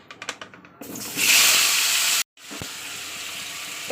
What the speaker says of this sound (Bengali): এবার ওই তেলে আমি দিয়ে দেবো কুমড়োগুলোকে